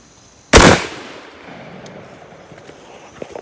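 A single 16 gauge cylinder-bore shotgun blast loaded with black powder and 18 pellets of 29 caliber, a sharp loud boom followed by a long decaying outdoor echo and faint rustling.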